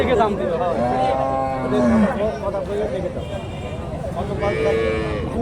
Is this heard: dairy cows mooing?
yes